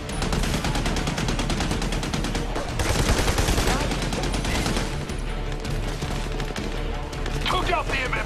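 Sustained automatic machine gun fire in the Army of Two: The Devil's Cartel shooter game, a dense, loud, continuous barrage with overlapping gunshots and combat noise throughout.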